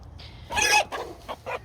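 A rooster on a farm clucks up close: one loud, drawn-out squawk followed by a few shorter, choppy clucks.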